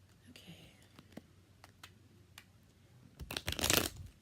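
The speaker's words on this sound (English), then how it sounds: "One more shuffle." A deck of tarot cards is shuffled, with soft scattered taps and rustles building to a louder flurry of riffling near the end, heard close with faint whispering.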